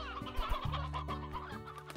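Chickens cluck in a coop in the farming video game Slime Rancher, a busy overlapping run of short clucks from several birds, fairly close and steady.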